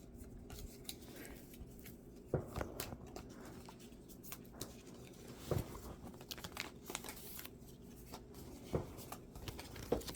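Codex playing cards being shuffled and drawn on a table, quiet papery riffles and crisp snaps at irregular intervals, with a few sharper card flicks standing out against a faint room hush.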